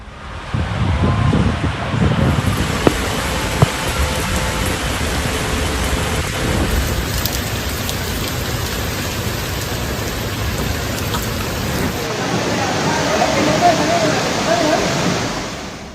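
Heavy rain pours down steadily in a loud, unbroken hiss, with low rumbling beneath it, while a voice talks over it throughout.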